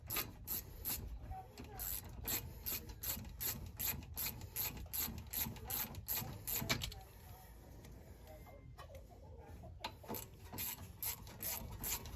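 A ratchet loosens a caliper bolt during a brake job on a Honda Element, a close, steady run of rapid clicking pawl strokes in quick bursts that pause briefly near the end and then resume.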